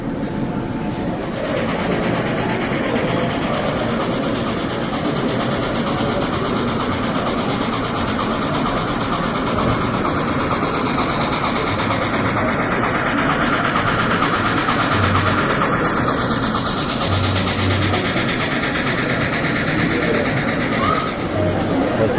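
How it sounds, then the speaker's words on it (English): Rio Grande 3504 model train pulling a train of cars along the track at a train show, a steady rolling rumble and clatter lasting throughout, with crowd noise in the background. "Rio Grande 3504. Pulling along train."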